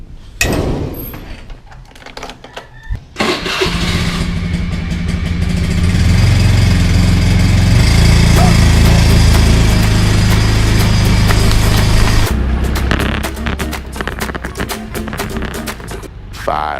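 A Honda Click 150 Fi motor scooter engine starts and runs steadily with a low, loud droning hum, then drops back toward idle near the end.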